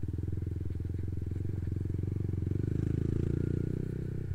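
A bakso seller's motorcycle putters over a badly damaged road near Watu Nggong, a close, rapid engine pulse with rattling and clatter from the rough surface.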